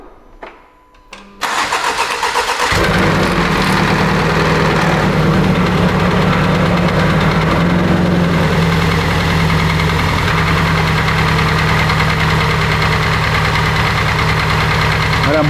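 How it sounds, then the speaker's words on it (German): Car engine with a motorsport battery cranking and catching after a brief quiet moment, then idling loudly and roughly with an uneven, throbbing rumble that continues steadily up close. "Der Motor läuft ziemlich unrund"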